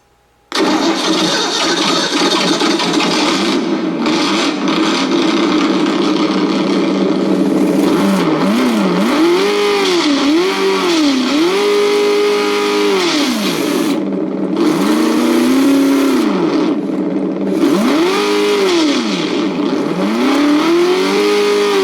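ESS-One engine sound system fitted to a vehicle starts up and revs repeatedly, a loud close synthesized engine note rising and falling in swooping pitch sweeps with a steady underlying drone, no speech.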